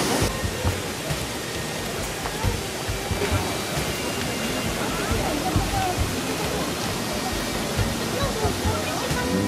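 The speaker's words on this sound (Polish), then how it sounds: "Wodospad Szklarki." Szklarka waterfall in the mountains beside a stony mountain stream, a steady broadband roar of falling water, close and continuous for the whole stretch, with faint bursts of other noise over it.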